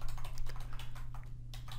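Typing on a computer keyboard, with quick, light, close key clicks in an irregular rhythm over a low steady hum.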